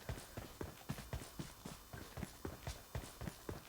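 Running footsteps in PUBG Mobile Lite, a steady series of about a dozen quick, crisp thuds repeating in an even rhythm at moderate level, with no talking over them.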